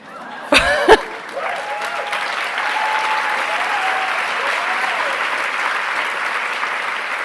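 Audience applause fills a room after a speech about women using their platforms for change: a couple of sharp thumps open it, then a steady, dense wash of clapping carries on at an even level.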